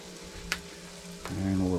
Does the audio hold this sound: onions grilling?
yes